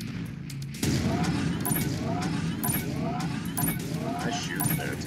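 AC2 autocannons fire in MechWarrior 5, a rapid run of sharp mechanical shots and impacts over a steady engine-like drone after a quiet start, with a voice speaking over parts of the barrage.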